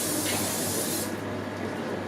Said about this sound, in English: Just need to spray the pan, the container you're using with cooking spray,